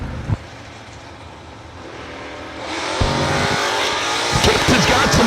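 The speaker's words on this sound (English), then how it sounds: "S10 pickup truck comes up next left side, 713 dial, and Chase Green in the Green Family Motorsports beautiful Chevy 2 Nova" A Chevy II Nova wheel stander drag car races an S10 pickup at a drag strip, engines roaring loud and building sharply partway through, with a public address announcer talking over the din.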